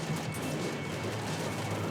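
Sustained, dense gunfire in Max Payne 3 during a firefight on an airport runway, a continuous rattling barrage filling the whole stretch at steady loudness with no talk.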